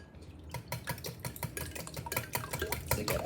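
Quick rhythmic whisking of orange juice and lemon juice in a bowl for a Jamaican rum cake, close and fairly quiet, with steady clicking strokes against the bowl and no speech.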